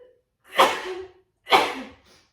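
Two sharp sneezes, close and distinct, about a second apart, each with a quick intake of breath before the burst.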